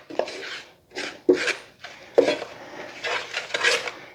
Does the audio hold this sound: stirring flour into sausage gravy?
yes